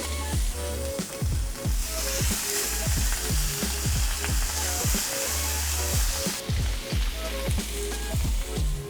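Welsh lamb pinchos morunos skewers sizzle steadily on a hot grill or pan, a loud continuous crackle and spit with scattered sharp pops and faint clinks throughout, no talking.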